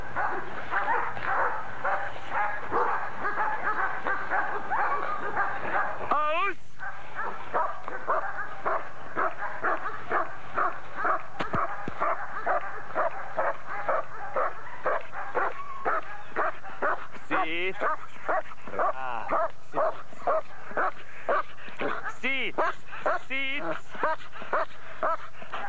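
Police dog in Hungarian attack-dog training on a long leash, barking and yipping in rapid repeated bursts close by throughout, with a handler talking over it.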